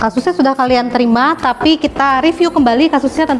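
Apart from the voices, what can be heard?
No everyday noises stand out.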